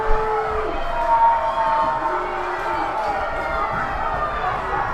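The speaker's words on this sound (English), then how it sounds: "You can hear him out the window. They're booing." A crowd at a varsity high school football game between Holy Name and Buckeye boos, a sustained mass of voices carrying from a distance beneath a commentator's talk.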